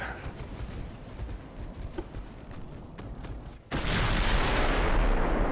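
Naval guns firing in the warship game Ultimate Admiral: Dreadnoughts, battleship 5-inch casemate secondaries, with scattered distant booms and rumble, then a sudden loud sustained roar of fire that holds to the end.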